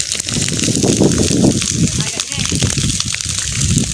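Water sloshes and gushes onto a large grass fire in a rural village, a steady splashing rush mixed with crackling, while someone talks loudly over it.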